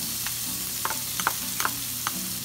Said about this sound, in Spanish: voy a utilizar un poquito de aceite vegetal para dorar y freír todo esto